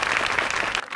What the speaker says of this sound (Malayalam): അതിനൊരു വലിയ കയ്യടി